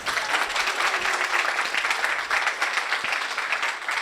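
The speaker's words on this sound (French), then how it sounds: "et là vous pouvez évidemment applaudir" An audience at a talk on building an interplanetary network breaks into steady, dense applause, many hands clapping evenly and fairly close for several seconds without speech.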